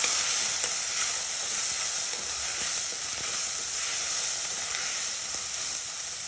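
Pulao in a pan gets stirred after chilli powder and salt go in, a steady close sizzling hiss with soft scraping and stirring movements throughout.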